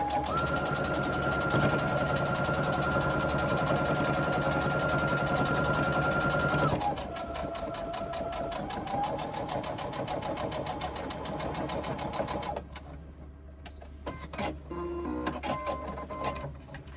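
Sewing machine runs a quarter-inch seam on a reversible tote, whirring steadily up close, changing pitch midway as it reverses, then slowing into short bursts near the end.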